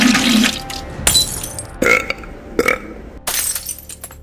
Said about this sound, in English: despite his farts and his burps, which were making all the windows explode every time